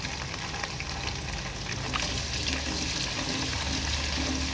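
Two medium onions frying in hot oil with cumin for a jeera pulao, a steady soft sizzle with faint crackle running throughout, no voices.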